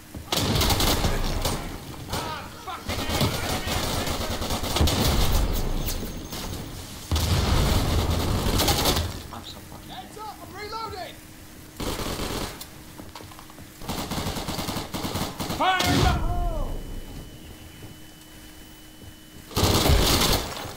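Rapid gunfire in the World War II shooter Day of Infamy, with dense bursts of automatic fire and single shots in loud clusters broken by quieter gaps, mixed with game noise and voices.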